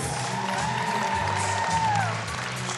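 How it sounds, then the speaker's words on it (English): Crowd applauding at the wheelchair basketball final of the Asia-Oceania Championship after Australia beat Japan, steady clapping from the stands with a commentator talking over it and a faint whistle-like tone gliding through. "The crowd applaud an excellent performance by this Rollers outfit"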